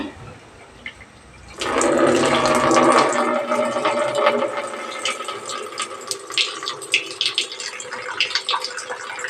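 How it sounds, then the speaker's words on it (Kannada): Rice poured into a pot of water at a rolling boil on a home stove, a sudden loud wash of bubbling and hissing that starts after a quiet moment and keeps churning steadily. "ಇವಾಗ ನೀರು ಚೆನ್ನಾಗಿ ಕುದೀತಾ ಇದೆ ಈ ಟೈಮಲ್ಲಿ ನಾನು ಅಕ್ಕಿ ಸೇರಿಸ್ತೀನಿ"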